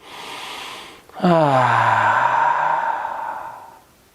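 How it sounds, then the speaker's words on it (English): During a yoga session, a single deep exhale through the mouth follows a short inhale and becomes a long, close, slightly voiced sigh that slowly fades. "Take a nice big inhale through your nose, exhale out your mouth."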